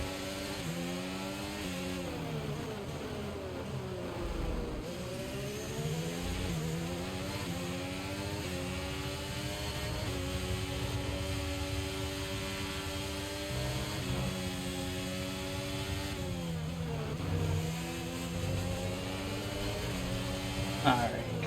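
Formula 1 car engines in the racing game F1 23, with high-pitched whining revs that rise and fall through gear changes and braking, heard continuously beneath commentary.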